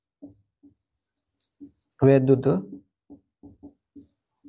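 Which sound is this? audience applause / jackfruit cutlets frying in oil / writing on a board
writing on a board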